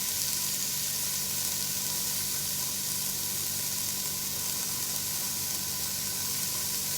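Peppers sizzle in a hot pan while making homemade spaghetti, a steady bright hiss of frying that holds evenly throughout with no talk over it.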